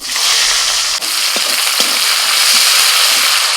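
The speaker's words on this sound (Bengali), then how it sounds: "কড়াইতে যে তেল আছে তেলের মধ্যে দিচ্ছি পেঁয়াজ কুচি" Chopped onion frying in oil in a wok gives a loud, dense, continuous sizzle close by, with a few light knocks of stirring through it.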